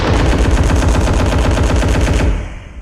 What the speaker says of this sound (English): Gunshots echo.